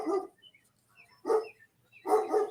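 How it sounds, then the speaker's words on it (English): A dog indoors barks three times at uneven intervals, the last a quick double bark, moderately loud and somewhat distant, with silence between barks. "my dog's barking again because that's what he does"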